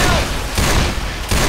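Rapid bursts of gunfire in the zombie shooter Left 4 Dead, loud and close, three dense volleys in quick succession with brief gaps between them.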